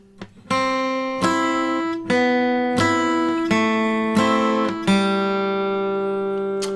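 An acoustic guitar plays a riff of plucked single notes and strummed chords, about six distinct attacks in a steady rhythm, each ringing out clearly with no voices.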